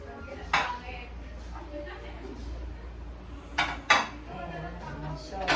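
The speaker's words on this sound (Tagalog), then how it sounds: "maglalagay ako ng mga plato para makita rin natin kung okay" Plates and dishes are set down on a table being arranged for a Christmas meal, giving a few sharp clinks spread out with quiet handling between them.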